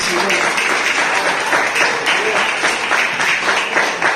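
A church congregation claps steadily in a dense, continuous round of applause during a sermon, with voices mixed underneath.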